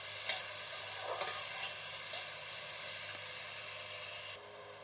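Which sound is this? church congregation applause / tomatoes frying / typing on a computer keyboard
tomatoes frying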